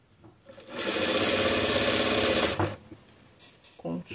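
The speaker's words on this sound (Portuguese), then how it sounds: "agora eu tô costurando o saquinho" A sewing machine stitches an Easter fabric bag in one close, loud burst of rapid needle hammering lasting a couple of seconds, followed by quieter handling and someone speaking.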